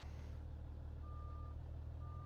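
Reversing beeps from a truck in the Farming Simulator 19 game, two short steady electronic tones repeating under a constant low engine rumble.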